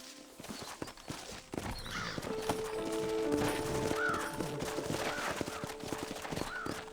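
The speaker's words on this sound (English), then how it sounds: "Horses are over here!" Horses in the Red Dead Redemption video game clop along steadily with hooves on the ground, a whinny and bird caws rising over a busy, continuous game soundscape.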